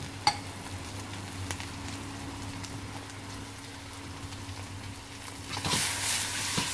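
Fresh soybean sprouts go into a pan already sizzling with chicken and onion, a steady close frying hiss that swells into a louder crackling burst near the end, with no talk.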